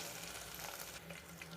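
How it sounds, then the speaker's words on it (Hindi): Ginger frying in a pan while preparing aloo matar, a steady close sizzle and crackle that holds evenly for the whole moment, with occasional soft stirring scrapes and no talk. "अब हम इसमें ये अदरक शामिल करेंगे और इसको अच्छे से भूनेंगे"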